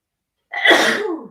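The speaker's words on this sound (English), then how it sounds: "I'm going to sneeze, so please excuse me." A single loud sneeze bursts out close by after a moment of silence, trailing off over about a second.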